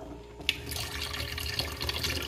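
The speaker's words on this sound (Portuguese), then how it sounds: "a minha água aqui da torneira, gente, ela sai muito pouquinho" Thin trickle of water running from a kitchen sink tap with low flow, a steady soft splashing that continues for a couple of seconds, with a small clink near the start.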